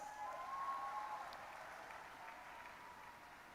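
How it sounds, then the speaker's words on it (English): Applause at the inauguration ceremony of an annual convention, a faint, distant wash of clapping from an audience, steady and then slowly tapering, with a brief tonal whistle or feedback near the start. "let's give them a huge round of applause"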